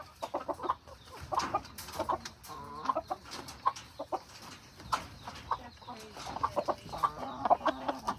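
A black hen clucks repeatedly in short, uneven bursts from nearby on a rural homestead, the calls steady throughout, with a few other faint farm sounds underneath.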